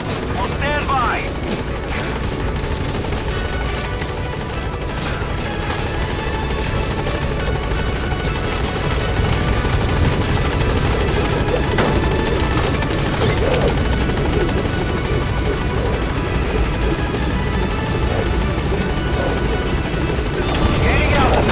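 The B-Quad helicopter in Metal Gear Solid V: The Phantom Pain touches down at a landing zone, its rotor a loud, continuous thumping roar with engine whine, heavy throughout, while radio voices speak over it.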